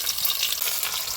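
Raw green banana (kachkola) frying in a pan, a steady, close hiss of bubbling oil that runs evenly through the short moment with no talking.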